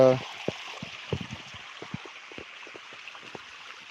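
Irrigation water running along a channel into a cotton field, a faint low gurgle with scattered soft bubbling pops over a quiet hiss, with a brief voice at the very start.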